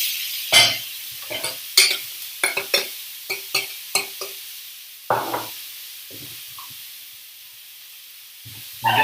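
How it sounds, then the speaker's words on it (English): Vegetable mix with bacon being stirred in a hot pan, sharp bursts of sizzle and scraping at irregular intervals, close and loud, with quieter gaps between stirs. "I've got my veg mix here"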